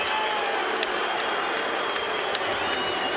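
Big arena crowd applauding and cheering after an intense boxing match, a dense, steady roar of clapping and shouts with sharp claps popping out, loud and continuous throughout.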